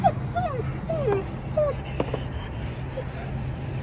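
Dogs whimpering and yipping in short, rising whines scattered through the clip, close by over a steady low hum, with faint talk in the background.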